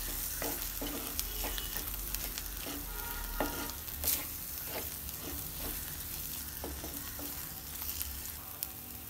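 Garam masala with salt sautés in a pan for an egg curry gravy, a continuous close sizzle broken by regular scraping and stirring strokes.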